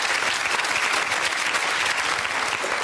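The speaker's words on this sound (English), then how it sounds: "Give them a round of applause." A TV studio audience applauds in a dense, steady wash of clapping that stays loud and even throughout, with no voices standing out.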